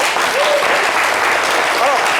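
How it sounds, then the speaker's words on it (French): An audience claps loudly and continuously for Hervé on a live French variety show, a dense, even burst of applause filling the whole moment with a faint voice briefly rising above it. "On va applaudir très très fort pour Hervé."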